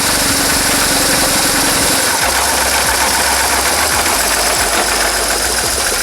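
A motorcycle engine idles loud and close with a steady mechanical chatter, then about two seconds in it drops to a smoother, quieter run once the clutch is pulled in.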